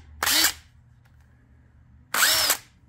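Two short bursts of a DeWalt cordless drill whirring up and stopping, separated by a quiet pause of about a second and a half.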